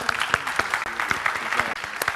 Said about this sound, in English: So if we could have an applause for everyone that was involved today